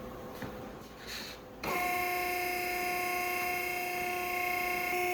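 An SRX hydraulic clamp carrier machine starting up: a few soft knocks, then a steady, high, whining hum that holds constant and fairly loud with no voices.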